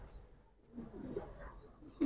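Pigeons from a breeding pair give faint, low, soft cooing close by, with a few brief bird sounds and little else around.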